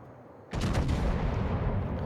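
A heavy naval gun salvo from the battlecruiser Derfflinger in World of Warships booms out suddenly and loudly, then rolls into a long, dense rumble that keeps going.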